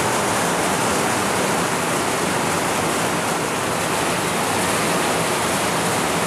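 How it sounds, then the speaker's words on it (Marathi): Heavy monsoon rain pours down steadily over a flooded street and building, a dense, loud, unbroken hiss that fills the whole stretch with no voices. "एवढा पाऊस येतोय"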